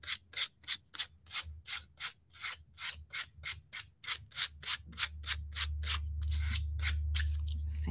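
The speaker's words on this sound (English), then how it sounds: "I'm just going to use a little piece of sandpaper here" Sandpaper scrapes in rhythmic strokes, about twenty in a steady back-and-forth pattern, close and crisp, with a low rumble building toward the end.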